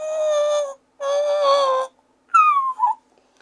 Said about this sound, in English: Your first sounds are going to sound something like that out of your call.